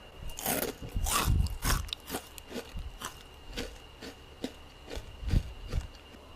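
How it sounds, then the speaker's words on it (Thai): Crisp, crackly crunches from repeated bites into batter-fried crispy pork belly, a loud burst of chewing followed by steadier crunching, close up with no talking. "จะให้ฟังเสียงกรอบนะ"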